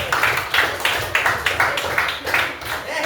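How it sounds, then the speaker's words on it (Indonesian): Students in a classroom clap in rhythmic bursts, a group of hands striking together in roughly half-second pulses, fairly close and moderately loud, with a little background voice. "Tepuk tangan dulu"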